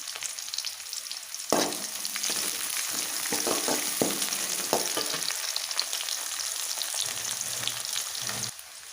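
Sliced large onion sautéing in a pan for duck curry, a bright crackling sizzle that begins abruptly and continues with scraping stirs and small pops, close and fairly loud, then drops away near the end.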